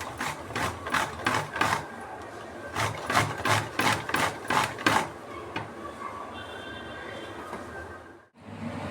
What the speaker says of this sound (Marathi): तर मी 1 वाटी खोबरं किसून घेते आहे